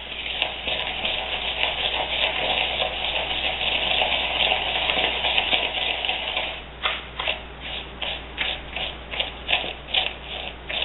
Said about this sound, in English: I like to go up against the bowl and just like this and smush the butter